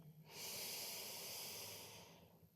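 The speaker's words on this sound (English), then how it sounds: "take a big, deep breath in" A single big, deep breath drawn in through the nose, a soft airy inhale that swells and fades over about two seconds, quiet and close with no talk.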